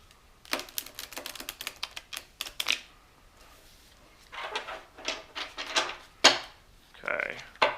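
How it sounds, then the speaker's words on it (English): A deck of Go Adventure game cards is riffled and shuffled on a table in several bursts of rapid, close papery flutters and clicks, with brief pauses between. "you can shuffle the deck"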